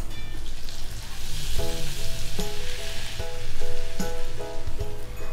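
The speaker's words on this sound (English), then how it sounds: "Add 50 gram butter into the pan." About 50 grams of butter sizzling in a hot pan, a steady crackling hiss with faint clinks and a low hum in the background.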